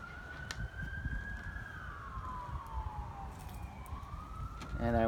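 A police siren wails in the distance, its pitch slowly rising and falling over steady outdoor background noise, with a short sharp burst at the end.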